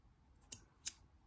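William Whiteley Wilkinson thread snips trim a length of overlapping elastic with two quick, crisp snips about a third of a second apart, close and quiet, with no talking.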